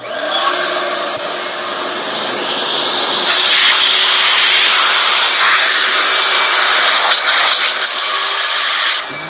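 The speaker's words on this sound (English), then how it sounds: "Vacuum starts." A vacuum cleaner runs continuously during prep of an MH51B fuel tank, a loud close airy hiss whose pitch shifts as suction changes, with no talking.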